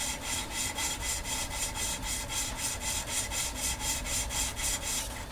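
Steady back-and-forth scraping of a valve being lapped into its seat in an MK2 Golf cylinder head, a close, continuous rhythmic rubbing with regular strokes about every third of a second and no voices.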